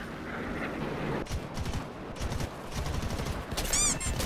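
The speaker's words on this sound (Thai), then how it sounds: "แล้วก็ยิงไปก่อนเลยนะครับเผื่อโดน" Rapid bursts of gunfire from aircraft guns in the combat video game War Thunder, sustained rattling fire with short gaps over a steady engine drone, no talking.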